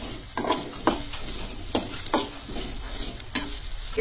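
Chopped vegetables for a vegetable pulao sauté in a hot pan with a constant soft sizzle, broken by several sharp scraping stirs of a spatula at irregular intervals, close and clear with no voices.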